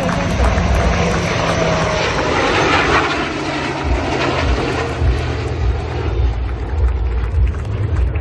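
An MK-1A Tejas fighter jet flies past with a steady, loud, broadband roar of jet engine noise that holds level throughout, continuous and dense without pauses.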